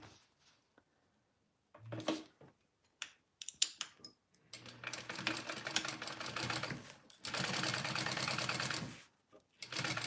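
A sewing machine stitches a seam on a crossbody bag in quick mechanical bursts. A short run is followed by a longer steady stretch of rapid clattering, then a pause and a final brief burst, close and clear.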